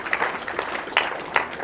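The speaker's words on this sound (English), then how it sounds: "I know it's a weird thing to applaud." Applause from a lecture audience at a free speech and free markets talk, a brief patter of clapping with a few sharper bursts, moderately loud and steady with no talk over it.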